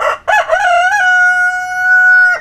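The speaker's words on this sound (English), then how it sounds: "she lives off the eggs from a few chickens she keeps outside" A rooster crows loudly and close outside a home where a few chickens are kept, one long sustained call after a couple of short clucking notes.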